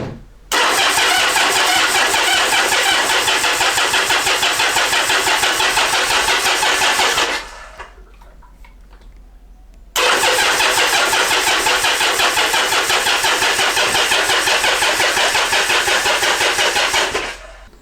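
A Yamaha XS850 motorcycle engine, unused for four weeks, fires up and runs with a loud, rapid, even chugging, falls silent for a few seconds, then starts again and runs steadily before cutting off.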